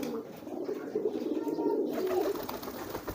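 Pigeon cooing close by, a low throaty warble repeated over a few seconds with a faint rustle of movement around it.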